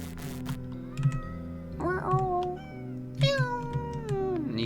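Meows from a cat character in the video game OneShot sound out in short rising and falling calls, heard between quieter stretches of the game's background music.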